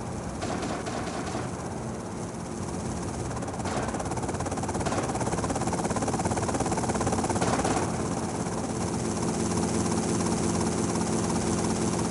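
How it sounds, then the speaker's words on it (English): In the GTA Vice City game, a helicopter flies nearby with a dense, continuous rotor chop and engine roar, loud and steady throughout. "my god, they've got a helicopter!"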